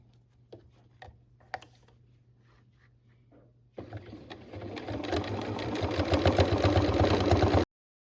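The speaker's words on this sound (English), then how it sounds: "And just sew all the way down." A sewing machine stitches a rag quilt seam, starting after a quiet stretch of faint taps and running steadily and loudly to the end, its motor whirring with a rapid needle rhythm close to the microphone.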